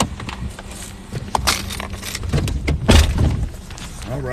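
Truck doors open and shut as people climb back in at Hollywood Cemetery, with a few sharp clunks and rustles close by, and some talk mixed in.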